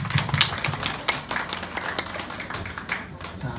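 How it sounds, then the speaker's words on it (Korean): Members of a Korean Sunday worship congregation break into applause, a burst of sharp, uneven hand claps that is loudest at the start and trails off while a voice murmurs faintly behind. "박수."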